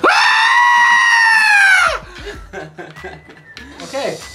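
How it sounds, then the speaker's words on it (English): A loud, drawn-out screaming goat sound effect lasting about two seconds, followed by scattered chuckling and snickering voices. "Hey, Matt, you ever heard of the screaming goat?"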